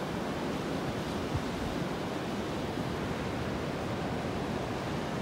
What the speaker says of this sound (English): The wind's coming in from the northwest. It's definitely got the Gulf stirred up out here.